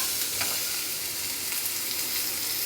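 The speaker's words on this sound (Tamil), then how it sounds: "இப்போ நம்ம அரைச்ச விழுதை நல்லா வறுத்துக்கலாம்." Ground spice paste fries in hot oil for tomato rasam, giving a steady, close, continuous sizzle with faint crackles and occasional stirring, no voices.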